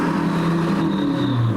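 Diesel car engine revving hard in a rev battle, a steady loud roar with a low rumbling drone that climbs slightly in pitch, heard alone without talk.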